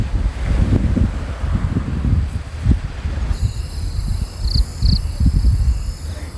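Strong seaside wind buffets the microphone in loud, continuous gusts with low rumbling rushes, and a faint high tone appears in the background toward the end.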